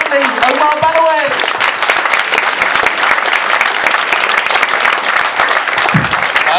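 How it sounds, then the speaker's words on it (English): A comedy club audience claps steadily to welcome a comedian to the stage, dense and sustained applause throughout, with a brief voice near the start. "if you can start the applause, bring it right the way through the room"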